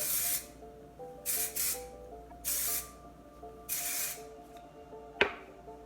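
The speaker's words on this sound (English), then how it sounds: "And spray that all over" Several bursts of hissing hairspray, each lasting under a second, with short pauses between, close up, ending with a small tap.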